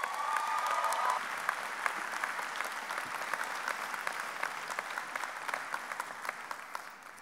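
At the 2018 University of Maryland School of Public Policy commencement, the audience applauds steadily. The full ovation slowly thins toward individual claps while many hands keep going.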